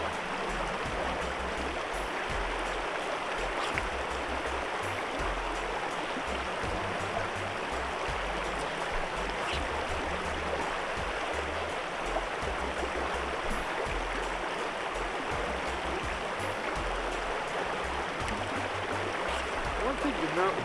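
River water streams steadily around a wading fly fisher standing near the center of a river, a constant broadband rush with no breaks, close and fairly loud throughout.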